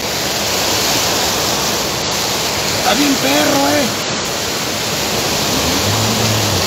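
Loud, steady roar of rushing floodwater after heavy rains in León, a continuous broadband torrent filling the whole clip, with someone talking briefly over it near the middle.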